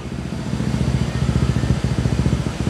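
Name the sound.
motorcycle Honda ADV 160 idling with aftermarket exhaust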